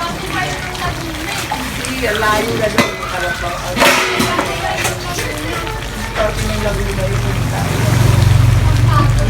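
Chicken fillet and vegetables sizzle in a pan while being stirred, with clinks of a utensil against the pan and a person talking over the cooking.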